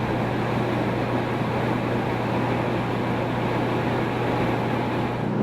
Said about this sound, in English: You can hear the turbines running in the background.